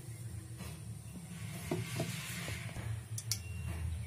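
Mustard oil warms in a frying pan in a home kitchen, giving a soft, faint steady hiss and low sizzle with a few light clicks and taps of utensils against the pan.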